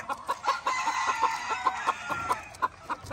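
Chickens cluck in a Puerto Rico gamefowl yard, with a steady run of short, fairly loud clucks in an uneven rhythm close by and a faint rooster crow blended in.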